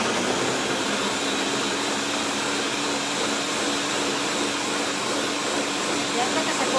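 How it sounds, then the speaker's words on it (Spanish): A kitchen blender grinds ingredients for a green chile sauce for steak, giving a loud, continuous, even whir that fills the whole stretch without letting up. "Esto se va a moler rápido."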